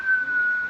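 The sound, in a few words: whistling imitating Batmobile sound from Batman Forever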